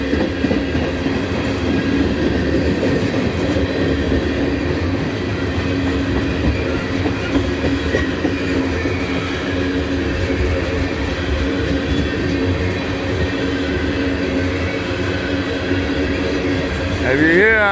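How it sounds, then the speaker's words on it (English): A freight train rolls past at close range in Abbeville, its wheels growling loudly and steadily on ground-down rails with rhythmic clatter and a squeal near the end. "If you hear how noisy the wheels are, that's because they grind these rails down."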